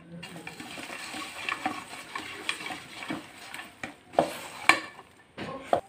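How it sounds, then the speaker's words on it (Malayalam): Beef is rubbed and mixed by hand with salt and ground spices, giving soft, irregular squelching and rubbing noises with a few sharper clicks and taps, close and fairly quiet. "ഇതുപോലെ കൈകൊണ്ട് തന്നെ നന്നായിട്ടൊന്ന് തിരുമ്മി കൊടുക്കണം"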